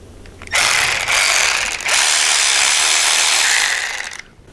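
Torx 25 bolts being backed out of the top cap on the brake side of a motorcycle's low rider short lever, a steady close mechanical ratcheting whir lasting several seconds before cutting off.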